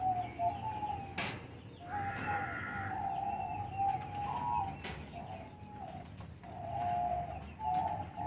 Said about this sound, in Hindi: इसके अलावा ये डब के पेयर हैं।